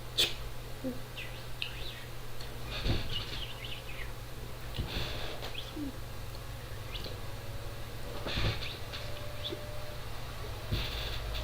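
A bird chirps in short, sparse, high calls spread across a quiet outdoor background hum, a few brief tweets at moderate distance with no talking.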